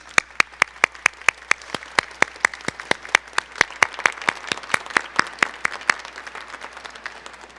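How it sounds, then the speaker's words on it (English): Audience applause at an outdoor Transgender History Month flag raising ceremony: a fairly small crowd claps in sharp, distinct hand claps that build into a steady patter and continue for several seconds, with no talking. "Yes, round of applause."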